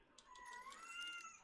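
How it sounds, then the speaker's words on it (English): A house cat lets out one drawn-out, rising and falling meow, faint and somewhat distant, with no talking over it. "Your cat is like pissed."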